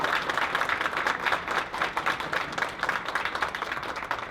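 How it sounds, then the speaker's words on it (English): Audience applause at a university pitch competition awards, steady dense clapping from a sizeable crowd throughout, fairly loud and continuous with no pauses. "Keep going. Keep clapping, keep clapping."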